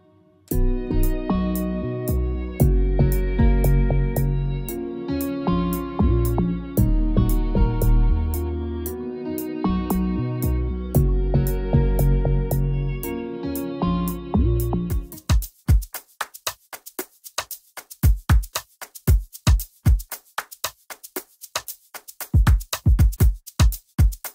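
Layered steel string acoustic guitars play with other beat instruments for about fifteen seconds, a dense mix with heavy low end. The guitars then drop out, leaving sparse, sharp percussive hits.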